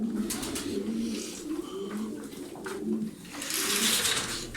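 Tumbler pigeons cooing in a loft, soft repeated low coos overlapping steadily throughout, with some rustling and a louder burst of wing or movement noise near the end.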